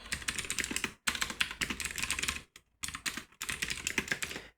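Fast, close keystrokes on a computer keyboard come in several dense runs separated by brief silent gaps.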